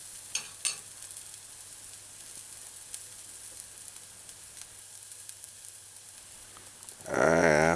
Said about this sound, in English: Alright, so saute the onions.